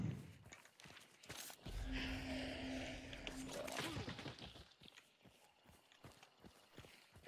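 Hollow hoof clip-clops from a horse in Hunt: Showdown, loud and steady, with a sustained tonal hum and a burst of louder noise through the middle.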